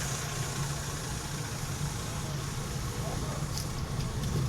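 A tractor engine drones steadily nearby on a road in Birgi, Ödemiş, Turkey, a low continuous rumble that holds evenly throughout, with faint traffic noise around it.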